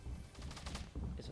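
Rapid gunfire bursts from a pump shotgun in the video game Fortnite Battle Royale, several loud close reports in quick succession over a dense game soundscape.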